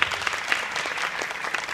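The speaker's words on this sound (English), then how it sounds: "we also wanted to do another warm round of applause" Warm round of applause from a conference audience honoring the event's contributors, dense steady clapping throughout at moderate loudness with no voices.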